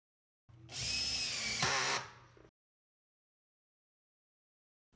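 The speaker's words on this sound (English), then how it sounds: "Position the control box about 1/2 inch from the tube and secure it to the work surface using the 2 long Phillips screws." A power driver runs a long Phillips screw into the work surface of a Steelcase Ology height-adjustable desk, giving a single close, steady whir of about two seconds that stops abruptly, followed by silence.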